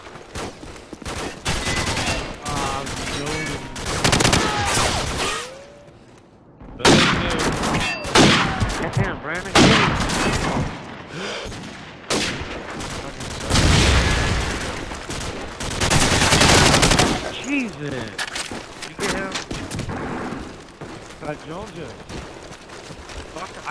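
Bursts of gunfire from the shooter game Call of Duty 4, with rapid automatic volleys and single shots in loud clusters separated by brief quiet gaps; players talk between and over the shooting.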